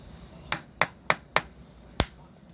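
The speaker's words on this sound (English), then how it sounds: "My little punch hammer." Five sharp metallic taps from a small punch hammer, four evenly spaced and a last one after a short pause, close and ringing briefly, during disassembly of Mikuni RS34 flat-slide carburettors from a Kawasaki KZ1000 Z1R.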